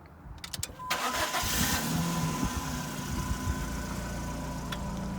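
A Dodge Neon engine starts and then idles steadily with its welded-up exhaust, a low, even rumble that stays fairly quiet and close, with no talk over it.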